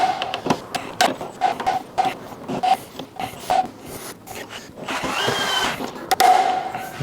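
Screws are torqued down while a domestic consumer unit is being built. Close, irregular clicks and taps from hand tools on the metal fittings are followed by a longer scraping, whirring stretch near the end.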